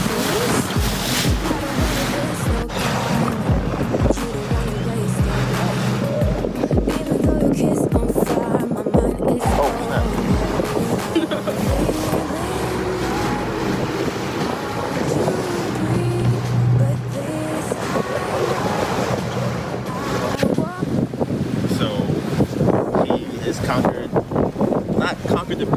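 A motorboat engine drones steadily beneath rushing water and wind buffeting in Venice, Italy, with voices talking over the noise throughout.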